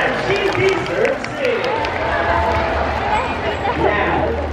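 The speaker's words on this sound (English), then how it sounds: "How about a round of applause for Sandra?" Audience applause for a performing sea lion at a show at Ocean Park in Manila, Philippines, a few seconds of crowd clapping and cheering mixed with an announcer's amplified voice and general chatter.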